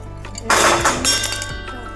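A drinking glass presses down to cut rolled karanji pastry dough, giving a sharp clinking knock followed by a few softer taps and scrapes on the board.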